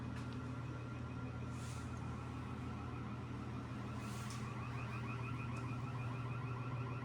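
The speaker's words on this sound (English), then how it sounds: "The neighbor's alarm went off." A car alarm sounds steadily at a distance, a continuous electronic wail with repeating tones over low background rumble, no voices.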